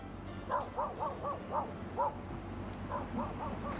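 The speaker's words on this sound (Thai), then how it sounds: "หมาเห่าข้างบ้านใช่ไหมครับ" A neighbor's dog barks in a quick series of yappy, high-pitched bursts, a short pause, then a few more, heard indoors at moderate distance.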